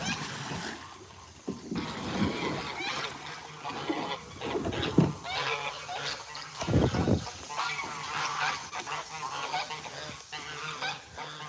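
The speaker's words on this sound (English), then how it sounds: "I hear you, gooses." Geese honk repeatedly at an animal sanctuary, calls layered close and loud with a few sharper bursts, alongside faint splashing water.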